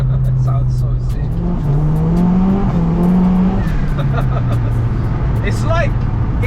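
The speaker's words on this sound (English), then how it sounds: "Really got to press the revs to get it going." A 370 bhp Mk1 Ford Focus RS engine revs hard and holds a steady high drone that rises and falls, loud and close, with a few chirpy high noises above it.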